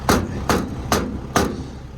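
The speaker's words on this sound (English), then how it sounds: "hammer that down. Diamond C trailer block." Four sharp, evenly spaced hammer blows drive a Diamond C trailer block into place beside an abandoned Ford, each strike loud and close with a short ring over a low background hum.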